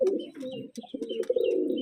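Andhra pigeons coo close by in a loft, soft low throaty rolling calls repeating in quick succession, with a few faint higher chirps and rustles between them.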